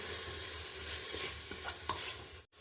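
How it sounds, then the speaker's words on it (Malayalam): Ginger-garlic paste and chopped tomato for chicken biryani stirred in a hot pan: a dense, even sizzle with a few soft scraping strokes, fairly faint, cutting out briefly near the end. "ഒരു സ്പൂൺ ഇഞ്ചി വെളുത്തുള്ളി പേസ്റ്റ് ഒരു തക്കാളി കട്ടി ചെയ്ത് ചേർക്കുക നന്നായിട്ട് ഇളക്കുക"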